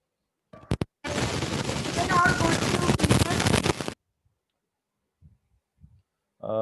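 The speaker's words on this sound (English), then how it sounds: "Aren't there fireworks going around your building?" A long crackling burst of rapid pops, like distant fireworks, follows a couple of sharp bangs, then quiet with brief faint noises and a voice at the end.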